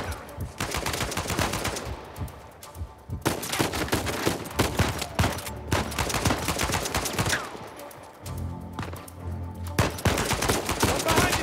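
Gunfire in Uncharted 4 cave fighting, repeated bursts of rapid shots and fusillades in clusters separated by short pauses, loud and close throughout.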